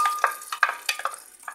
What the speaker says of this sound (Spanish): se van a freír un poquito mis frijolitos